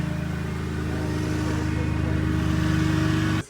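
Supercharged stock car engine running on a dynamometer, a steady loud, close drone with a strong low rumble that holds evenly for the whole stretch before cutting off abruptly at the end.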